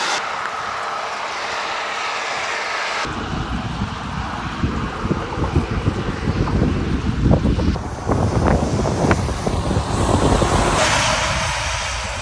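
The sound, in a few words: heavy road traffic passing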